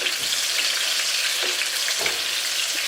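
Round melon (tinda) pieces brown in a hot pan, giving a steady hissing sizzle of oil with a few soft stirring scrapes and knocks along the way.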